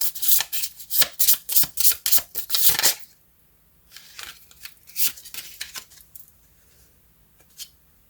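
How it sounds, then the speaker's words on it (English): Oracle cards are shuffled by hand in a quiet room, a fast run of crisp riffling flicks for about three seconds, then scattered softer card slides and taps. "let's pull one last oracle card for you"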